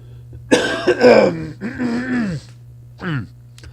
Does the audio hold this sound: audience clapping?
no